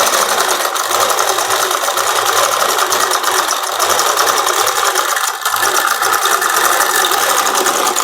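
A sewing machine runs steadily while stitching the neckline of a boat-neck saree blouse, a loud, fast, even mechanical rattle with one brief pause.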